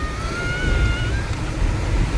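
A travel bus heading from Dombivli toward Kankavli moves along the road as traffic clears, giving a steady low rumble of engine and road noise with a faint rising whine.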